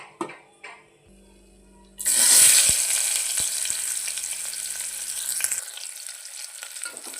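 Chopped onions dropped into hot oil for palak rice burst into a loud, steady sizzle after a few quiet clinks and taps, the frying continuing alone to the end.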